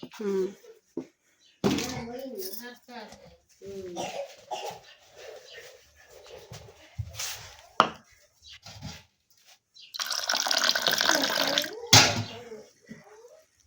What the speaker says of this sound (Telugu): చాలు ఇలా కొన్ని నీళ్ళు పోయాలి